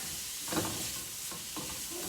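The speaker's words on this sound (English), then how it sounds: "Okay, stir frying is fast movement." Vegetables sizzle and hiss steadily while being stir-fried in a hot pan, with a few soft scraping stirs breaking through the constant frying noise.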